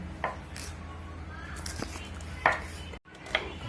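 A knife slicing onion into thin pieces, heard as a few sparse, quiet, sharp cuts against a low background hum.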